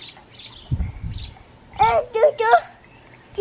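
A small bird chirps close by near its nest in short, high, warbling bursts with pauses between them, while a child and an adult talk softly in French.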